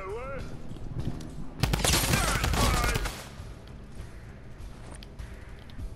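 Gunfire in the video game Fortnite comes as a dense burst of rapid shots lasting about a second and a half in the middle, fairly loud, with quieter game sounds before and after.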